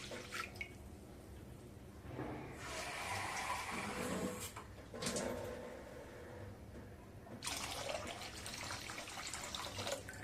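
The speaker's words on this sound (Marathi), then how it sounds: "गॅसवरती कढई गरम करायला ठेवली आहे आणि त्यामध्ये आता हा 2 ग्लास पाणी टाकायचं आहे" Two glasses of water poured into a hot kadhai on a gas stove, rushing splashy bursts that come in separate pours with quieter gaps between, fairly faint overall.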